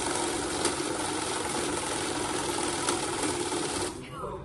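A cash counting machine in Puducherry riffles rapidly through a stack of banknotes, a dense continuous whirring flutter held close and loud for about four seconds before it cuts off and winds down.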